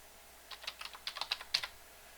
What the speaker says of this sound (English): I guess I just have to type it in.